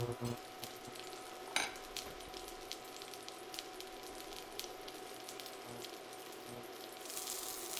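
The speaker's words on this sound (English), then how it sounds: "So we'll just fry this up." A gluten- and dairy-free meatball frying in a pan, giving a steady close sizzle with small crackles and pops throughout, alone without talk.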